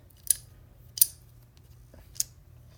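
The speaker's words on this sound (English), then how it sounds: "Ratchet, 3/8" Craftsman 3/8-inch drive ratchet clicking in three short, separate bursts roughly a second apart, crisp and close against a quiet background.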